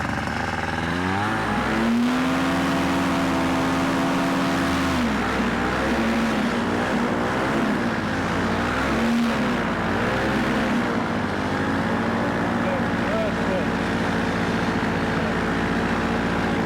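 Engine revving as the throttle is rolled on, a loud continuous drone whose pitch climbs, dips and swells repeatedly, with heavy wind rush throughout.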